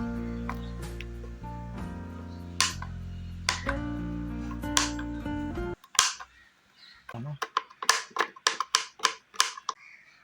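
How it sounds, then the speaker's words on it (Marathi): Dry fruits chopped with a knife on a board for a mango shake, a series of sharp close taps that quicken into rapid regular strikes in the second half, over a faint background hum. "आता आपण ड्रायफ्रुट्स कापून घेतो."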